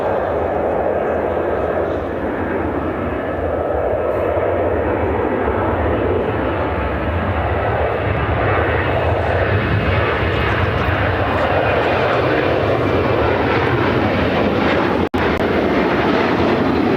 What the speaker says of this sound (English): Got that ANA Cargo 777 finally heading over here to the south side.